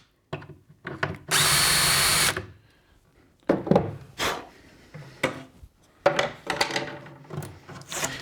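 A power drill with a hinge-boring bit cuts 32 mm holes into wooden kitchen cabinet doors for Blum European hinges, one loud steady whir lasting about a second, followed by quieter handling knocks and rustles.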